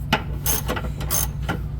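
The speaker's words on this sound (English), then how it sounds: "Hopefully I'm able to just use a ratchet." A ratchet wrench loosens the nut on a sway bar end link of a Toyota RAV4, giving close, crisp clicking in a few quick back-and-forth strokes over a low steady hum.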